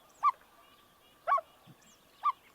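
Common loons giving soft short hoots in close family communication, three brief muffled calls a second apart, somewhat bark-like, faint and near in an otherwise quiet setting.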